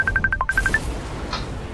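A phone rings with a quick run of short, clear electronic beeps in a rapid rhythm that stops partway through, leaving a low background hum.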